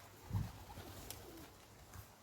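A pigeon coos softly once, faint against a quiet outdoor background hiss.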